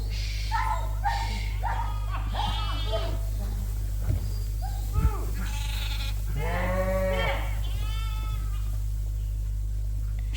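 A ewe with twin lambs bleating repeatedly at close range over a steady low electrical hum, several wavering calls in a row, with faint talk and a dog barking.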